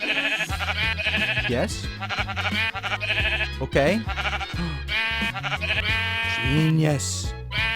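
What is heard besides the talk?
sheep bleating in a video game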